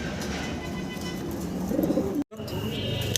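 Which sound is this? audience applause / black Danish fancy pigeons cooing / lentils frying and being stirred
black Danish fancy pigeons cooing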